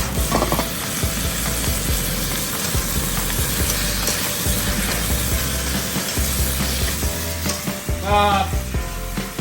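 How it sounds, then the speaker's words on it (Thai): Loud continuous sizzling of Chinese kale and snakehead fish stir-fried over high heat, with metal scraping and clanking of a spatula against a wok. "การผัดก็จะผัดด้วยไฟแรงครับ"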